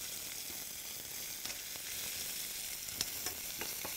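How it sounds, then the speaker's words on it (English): Dense, even sizzle of onions frying in hot oil with mustard seeds and urad dal, dotted with small crackles and pops, close and steady with no talking. "And then I'm going to add my onions here."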